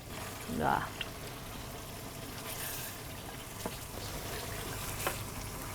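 Spiced masala sizzles steadily in a pan as meat is added during a Bengali home cooking show, a low, even frying hiss that stays fairly faint, with a brief voice-like sound near the start.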